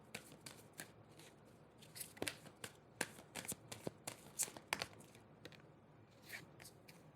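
Tarot cards are shuffled by hand close up, a run of quick, papery riffles and slaps in irregular bursts, fairly quiet, with no talking over them.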